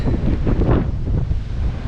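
Strong wind buffets the microphone on a cruise ship deck in Alaska, a loud low rumbling roar with gusty surges and a faint wash of sea beneath, lasting under two seconds.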